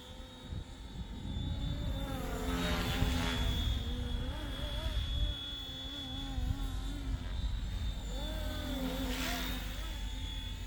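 Flywing FW450 gear-drive RC helicopter in flight, a steady high whine over a constant rotor drone with pitch rising and falling as it maneuvers, moderately close and continuous with no talk.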